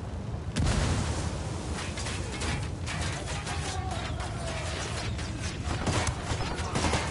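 A frag grenade explosion in the Ghost Recon video game, a sudden heavy blast near the start followed by a sustained rumbling roar of battle noise.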